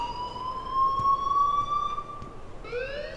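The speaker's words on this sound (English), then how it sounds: "please turn off that alarm since that's your job" A steady wailing electronic alarm sounds in the game Life is Strange, a sustained rising tone that holds, then drops and restarts near the end, moderately loud against a low background hum.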